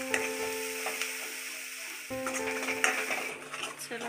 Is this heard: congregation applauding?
no